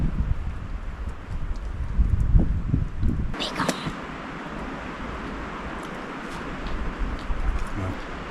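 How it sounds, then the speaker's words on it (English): Cold wind gusts outdoors in Alaska, a low steady rumble buffeting the microphone with rustling throughout, slightly stronger in the first few seconds. "That wind is cold."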